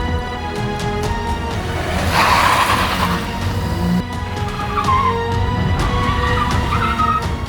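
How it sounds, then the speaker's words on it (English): A Tata Tigor JTP compact sedan driven hard on hill roads, engine droning with tyre squeal and skidding sounds swelling midway, loud and continuous without speech. "just the right childish turbo noises, and that excites me"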